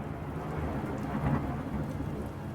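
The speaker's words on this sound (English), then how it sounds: "Your concentration is interrupted by a clap of thunder and pouring rain." Thunder and pouring rain in the video game Angeline Era, a low rolling rumble that swells midway over a steady, dense wash of heavy rainfall.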